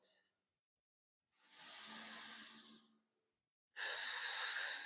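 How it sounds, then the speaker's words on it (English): Two long, deep breaths during a yoga-style balance and alignment routine, each a broad airy rush lasting a second or two, separated by silence and heard close with no talking. "3 big, nice rounds of breath"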